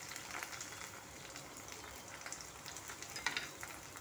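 Tomato frying in a hot pan with onion and curry leaves, a steady soft sizzle and crackle throughout, close but fairly quiet, with a faint stirring clink near the end.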